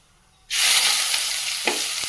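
Mustard seeds, cumin and curry leaves drop into hot oil for a cauliflower curry and burst into a sudden, loud, steady sizzle after a moment of quiet, with a brief crackle near the end.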